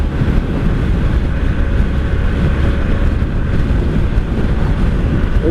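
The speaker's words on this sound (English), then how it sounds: "The wind is kind of crazy out here today. It's whipping around." Strong wind roars across the microphone during a ride on a 1983 Honda Sabre VF750S motorcycle, a loud, steady buffeting rush with engine rumble beneath and no talking.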